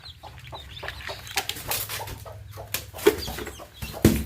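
Fourteen newly hatched chicks give soft, high cheeps and peeps in quick, scattered bursts, close by and fairly quiet, with light rustling between calls and no talking.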